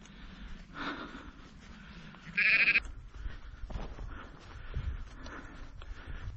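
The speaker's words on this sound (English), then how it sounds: "I think it's a case of just following the sheep." Sheep on a windy Brecon Beacons hillside give a short, sharp bleat, with faint softer bleats and breathy snorts around it, outdoors without talk.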